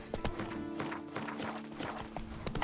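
Roach the horse gallops in The Witcher video game, hooves clip-clopping in a quick, steady rhythm up close, with music and ambient game sound underneath.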